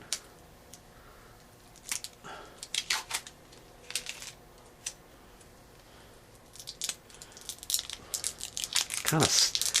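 Small sticky gel pads for steadying a washing machine are peeled off their plastic backing, giving scattered crinkles and soft tearing sounds close up that build toward the end, mixed with a few crisp crackles.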